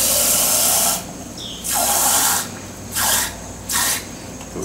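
Water from a tap pours into a container while grape juice is made with grapes and sugar, running in four bursts with pauses between them, loud and close with no talk.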